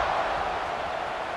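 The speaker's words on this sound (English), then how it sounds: "this crowd is buzzing after that last score" A football stadium crowd at a Louisville versus TCU game keeps up a steady broad roar after a score, loud and continuous with no distinct cheers standing out.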